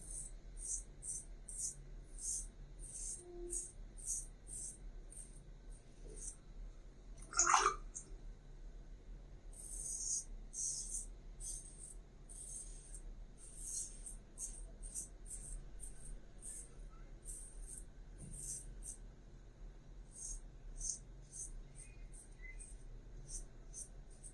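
Double-edge safety razor, a Romer 7 Regalia, makes its first pass over lathered stubble: faint, repeated short scraping strokes in an even rhythm, close and quiet, with one brief louder knock partway through.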